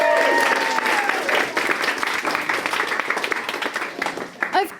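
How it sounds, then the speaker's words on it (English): An audience breaks into applause at a science talk evening, a dense burst of clapping that thins out and fades toward the end, with a voice briefly audible near the close. "Round of applause."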